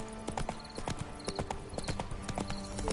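Roach the horse gallops in The Witcher 3, steady rhythmic hoofbeats clopping fast and close over ambient game sound, with no speech over the footfalls.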